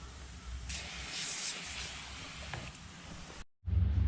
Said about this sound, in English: Also a bit of foam, just a bit of cleaning foam, we'll just loosen up a load of it as well.